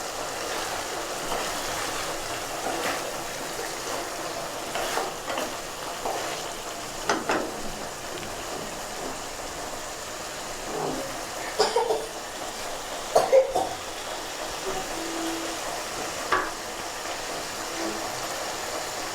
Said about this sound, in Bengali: এভাবে আর 1 মিনিট কষাবো